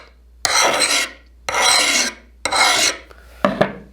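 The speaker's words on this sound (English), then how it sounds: "So I like to just take the fine file, just ever so carefully," Fine metal file drawn across the back of an antique draw knife blade to remove a burr, four separate close rasping strokes, each under a second, with short pauses between and no talk.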